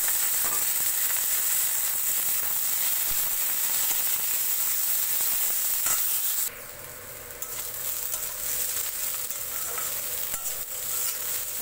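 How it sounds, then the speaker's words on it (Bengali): Potato and eggplant pieces dropped into a hot pan with fried crab and onion, a loud dense sizzle that drops sharply partway through, then a softer steady crackle continues, no voices. "পেঁয়াজ আর কাঁকড়াটা ভাজা হয়ে গেছে, এর মধ্যে আমি কেটে রাখা আলু আর বেগুনটা দিয়ে দিচ্ছি।"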